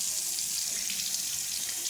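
Bathroom faucet in a newly built house's master bath running steadily, a continuous close splashing hiss of water into the sink with no voices.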